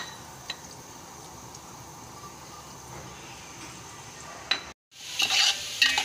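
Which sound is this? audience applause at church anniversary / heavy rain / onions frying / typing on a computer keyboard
onions frying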